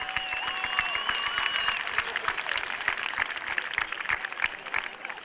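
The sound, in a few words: audience applause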